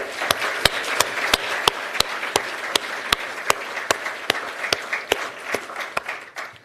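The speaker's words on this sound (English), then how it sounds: "I would like us all to celebrate and thank all the nominees with a round of applause." A slow, evenly spaced series of about twenty sharp claps sounds at an awards ceremony, each one crisp and distinct. Behind the claps a softer wash of applause continues, with no voices over it.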